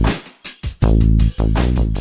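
A Nexus 5 software synthesizer oscillator plays a run of sustained, harmonically rich notes through a filter. The tone sharpens and softens across the phrase, rising from a faint start to a loud, steady sound with no voice.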